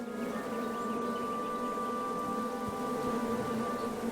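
Steady buzzing of bees in the King's Quest video game, a continuous drone with a sustained hum running the whole time, fairly soft and unbroken, with no voices over it.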